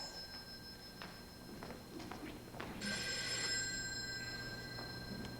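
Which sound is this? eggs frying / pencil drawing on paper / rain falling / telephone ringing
telephone ringing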